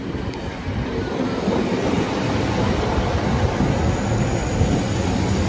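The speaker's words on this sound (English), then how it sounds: "Hang on there for the Manchester train" A Manchester-bound passenger train at a station platform, with a loud, continuous rumbling roar of wheels and motors close by and no break in the noise.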